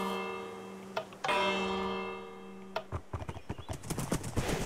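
Horse hooves clip-clop in a Minecraft Frozen II Bedrock map, a quick run of light, irregular beats starting after a steady tonal chime, fairly close and clear with no talk over them.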